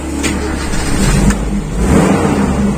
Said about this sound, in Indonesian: Nanti kalau sudah kita gas besar sebentar